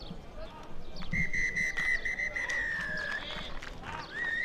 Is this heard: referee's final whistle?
yes